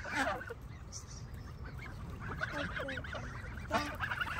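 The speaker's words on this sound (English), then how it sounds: "Every day you come here to feeding the duck?" Geese and ducks being fed at Furzton Lake in Milton Keynes honk loudly and repeatedly, with several overlapping calls close by against outdoor background noise.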